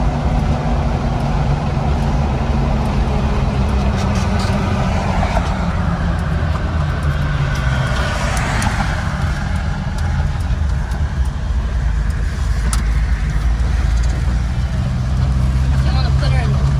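A Mahindra Roxor turbo diesel drives along, its steady low engine drone and road rumble continuous and close throughout, with people talking over it.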